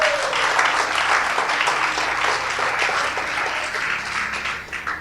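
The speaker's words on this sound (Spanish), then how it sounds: "Denle un aplauso." Church congregation applauding during a Sunday service, a dense, steady wash of clapping from many hands that holds loud throughout and tapers slightly at the end.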